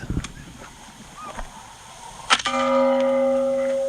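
A single sharp metallic clang of a supersonic .223 rifle round striking a steel gong target rings out and hangs in a sustained bell-like tone, following a few quieter knocks and a faint background voice.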